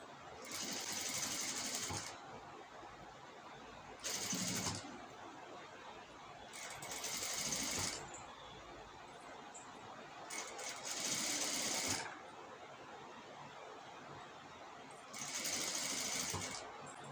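A sewing machine stitches lace onto a star-shaped blouse neckline, running in bursts of steady whirring that start and stop several times, close and fairly loud, with quieter pauses between runs.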